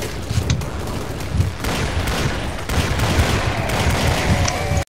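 Rapid dual magnum pistol shots in Killing Floor: a loud, dense barrage of gunfire cracks and booms packed closely together, sustained for several seconds before cutting off abruptly.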